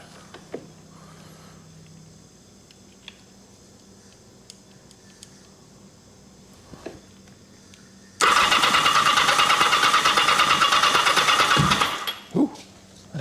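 A 1980 Kawasaki KZ750 motorcycle engine being cranked by its starter, grinding loudly and steadily for about four seconds after a quiet stretch with faint workshop ticks, ending in a sharp pop.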